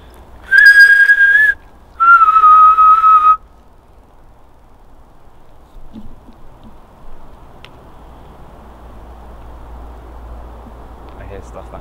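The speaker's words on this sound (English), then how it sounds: "Can you whistle back to me?" Two sustained whistled notes, the first higher and the second slightly lower, clear and close, followed by quiet woodland ambience with faint distant sounds.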